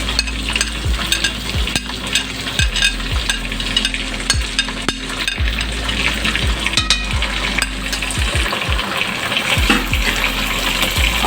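Chicken sizzling and frying in a pan for a murgh choley curry, with a steady crackle, the stirring spoon scraping and clinking repeatedly against the pan, and no talking.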